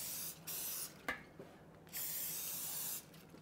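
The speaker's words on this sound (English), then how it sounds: "we're gonna spray this down real good" Three bursts of cooking spray hissing onto a whole chicken for a gas grill rotisserie, each about half a second to a second long, separated by brief pauses with small clicks.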